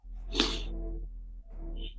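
A single close, sharp sneeze bursts out, followed by a short trailing voiced breath.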